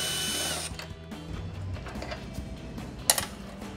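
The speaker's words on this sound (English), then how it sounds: "Take it and put it on my drill. A little bit faster than the middle." A power drill whirs briefly up close while loosening nuts on a Camaro cold air intake, then stops, followed by quiet metallic handling and a sharp clink near the end.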